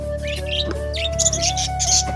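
Budgerigars in a cage give bright, busy chirps and short tweets, close and lively, over a steady low hum in the background.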